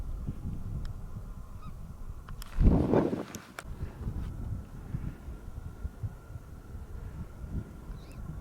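A goose in flight honks once, fairly loud, over a constant rumbling outdoor background with wind, during a goose hunt in Yakutia.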